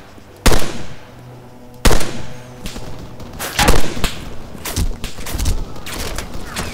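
Machine gun fire in the military simulator game Arma 3 comes in several loud, sharp bursts spaced a second or so apart, some short and some longer, with distant rumbling between shots.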